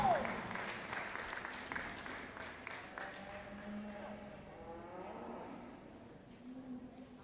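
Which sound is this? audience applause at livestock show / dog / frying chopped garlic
audience applause at livestock show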